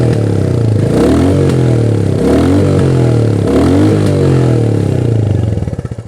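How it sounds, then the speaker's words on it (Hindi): Royal Enfield Classic 350 motorcycle, new next-generation model, revving its exhaust: a loud, steady single-cylinder engine note that rises and falls in several swelling revs, close to the microphone, with no talk, fading slightly at the end. "इसका जो अभी एग्जॉस्ट नोट है वो मैं आप लोगों को एक बार सुना दूँ।"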